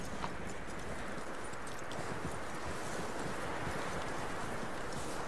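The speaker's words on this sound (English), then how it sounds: "Leading the horse to the hitching post, alright." Horse hooves in Red Dead Redemption 2 clip-clop at a steady walking rhythm across the whole stretch, with a dense, even texture at fairly low volume.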